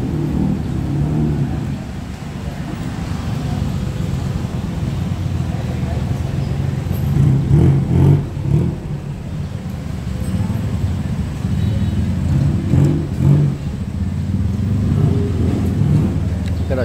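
Busy street traffic in Ratchaprarop, Bangkok, with a food and shop district, tuk tuks and a traffic jam: a steady rumble of engines with occasional revving surges, heard under ongoing talk.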